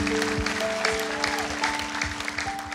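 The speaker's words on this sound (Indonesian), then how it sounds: "Tepuk tangan untuk anak." Audience applause for mothers at an Indonesian talk-show event, steady and dense through the clip, with sustained musical tones running beneath the clapping.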